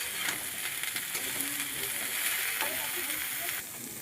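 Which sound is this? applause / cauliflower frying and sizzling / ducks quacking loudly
cauliflower frying and sizzling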